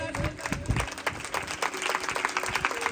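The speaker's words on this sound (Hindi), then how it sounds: "जोरदार तालियां बजाएं, जोरदार।" A church congregation at a revival meeting claps loudly and steadily, producing a dense wash of applause from a crowd, with voices mixed in.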